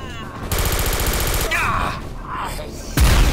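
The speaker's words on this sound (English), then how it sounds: "It's like a Gatling gun kind of thing." Gatling gun-like weapon in Star Trek: Elite Force II firing rapid bursts of loud, fast repeating shots, with whirring and a heavy boom at the end.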